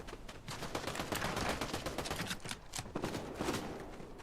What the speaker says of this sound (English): Why is he shooting me?